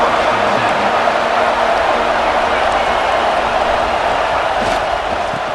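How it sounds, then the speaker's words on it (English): A dense, roaring stadium crowd in the video game EA Sports College Football fills the space during a Michigan game, a constant wash of cheering noise without pause. "listen to this crowd noise. This stadium is vibrating"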